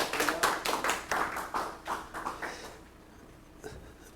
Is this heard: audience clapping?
yes